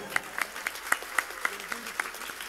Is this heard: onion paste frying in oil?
no